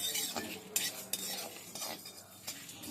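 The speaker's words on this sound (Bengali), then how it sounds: "এবার এগুলোকেও আমি ভালো করে ভেজে নিচ্ছি, তবে গ্যাসের আঁচটাকে মিডিয়ামে রেখে।" Whole spices for red chilli pickle frying over medium gas flame in a very hot wok, with a steady crackling sizzle and repeated metal spatula scrapes and clinks close by, no voices.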